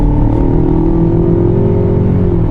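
A 2019 Ford Ranger Lariat engine revs under acceleration, a loud, steady low drone with a rising then leveling tone heard from inside the cab, continuous with no talking.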